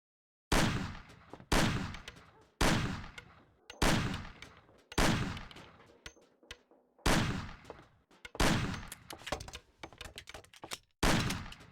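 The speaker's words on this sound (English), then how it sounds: "Shoot the cans off of the table." Gunshots ring out one at a time while shooting cans off a table in the game Mafia, about ten sharp loud reports at a fairly steady pace, each with a short decaying tail.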